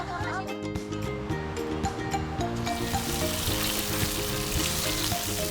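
Tofu frying in a pan of hot oil, a dense loud sizzle that builds and fills the clip, with voices and background music over the top.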